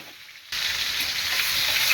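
Hog plums for a pickle drop into hot oil with dried chillies, three bay leaves and garlic, and a loud, close sizzle bursts out after a brief quiet start, then hisses on steadily.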